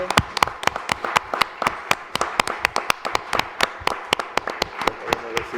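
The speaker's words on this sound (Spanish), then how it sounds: "un aplauso a Lili, que nos ha acompañado." A small group claps in a brisk, uneven burst of sharp individual hand claps, close and fairly loud, with no voices over it.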